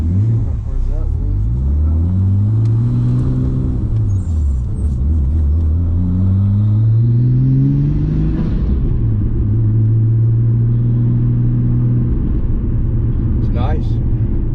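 Engine of a Nissan R32 Skyline sedan on the road, rising and falling through the gears in repeated revving sweeps with a loud rumbling cabin drone, people talking inside over it.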